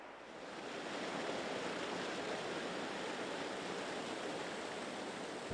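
The Gouette river flowing past an old mill, a broad steady rush of water that swells in over the first second and then holds constant and full.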